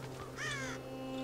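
Cartoonish crow-like bird caws once in the fantasy video game Child of Light, a short harsh call rising over a steady low background hum with no talking.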